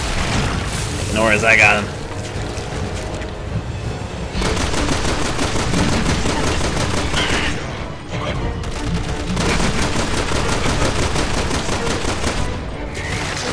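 Zombies are gunned down in Resident Evil 6 with loud, rapid continuous gunfire that runs almost unbroken through the scene, pausing briefly twice, while someone talks over it.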